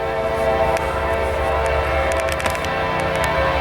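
A dark CSX freight train rolls past close by in Deshler, Ohio, a loud, steady rumble of engines and rail noise with horn-like tonal bands throughout, and nobody speaks.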